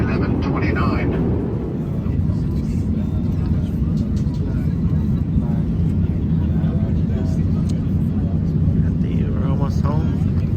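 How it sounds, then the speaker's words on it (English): Steady, loud low roar inside an airplane cabin during the descent approach to Los Angeles International Airport, a continuous engine and air rumble with voices talking faintly over it. "We're going to start the descent approach to Los Angeles Airport, International Airport."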